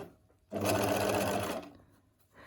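Sewing machine running a one-second burst of understitching along a garment facing, a steady close whir that starts and stops abruptly, with quiet handling sounds around it.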